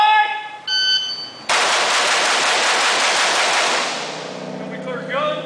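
Sustained automatic gunfire at an outdoor shooting range, a dense continuous roar of rapid shots lasting about three seconds, preceded by electronic beeping tones and fading into a beep again, loud and close.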